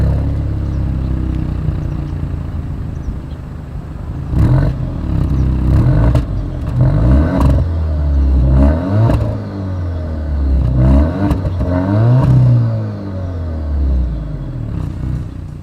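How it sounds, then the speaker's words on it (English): A 2024 Alfa Romeo Giulia's exhaust barks through a series of sharp throttle blips and revs, each rising and falling, loud and close, with no voices. "Here is that exhaust clip."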